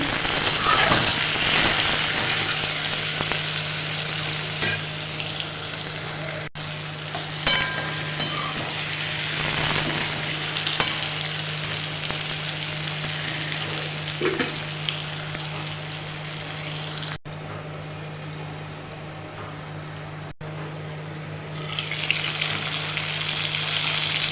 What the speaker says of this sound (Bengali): আমি কুমড়ো আর কাঁচকলাকে একটু ভাজা করলাম